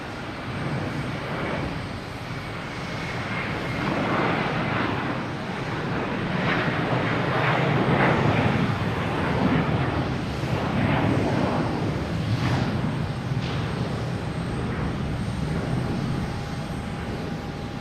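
A JetBlue Airbus A321 jet rolls and climbs away at Boston Logan Airport at night, its engine roar building to a peak midway and then easing slightly, fairly loud and with no voices.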